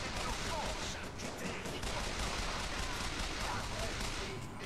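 Rapid gunfire in Bioshock Infinite, a dense continuous volley of shots at moderate level lasting throughout, mixed with game ambience.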